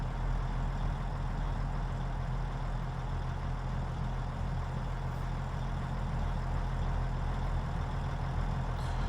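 A truck hauling a trailer in Farming Simulator 22 reverses with a steady, deep engine drone and rumble, continuous and close, with no talking over it.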